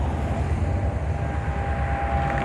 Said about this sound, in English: Okay, it's blaring its horn a little bit.